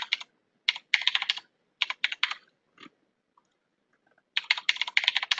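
Computer keyboard keys clatter in quick bursts while a new password is typed, with short pauses between runs of close, crisp clicks and no talking.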